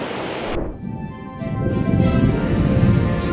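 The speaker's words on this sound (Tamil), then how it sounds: "இந்த இடத்துக்கு வரும்போதே அந்த ஃபால்ஸோட சாரல் அப்படியே மேலே அடிக்குதுங்க" Waterfall spray in the Swiss Alps rushes as a steady, broad roar of falling water and wind, briefly shifting in tone early on before settling into a full, continuous wash with no voices.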